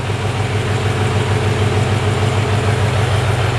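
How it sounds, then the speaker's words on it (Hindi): A John Deere 5050D tractor engine idles steadily up close, a continuous low diesel rumble with a strong even throb and no pauses or voices. "ये हमारे ट्रैक्टर का साउंड है।"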